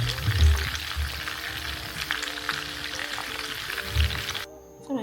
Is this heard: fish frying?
yes